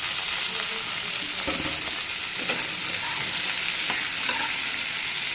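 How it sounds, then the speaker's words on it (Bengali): Potatoes frying in oil in a wok, the first step toward adding beans and carrots for a vegetable chow mein, with a loud, continuous sizzle and occasional stirring scrapes. "প্রথম আলুতে দিলাম ভাজতে, এবার তারপরে একটু আলুটা ভাজা হোক, তারপরে বিনস গাজরটা দেবো।"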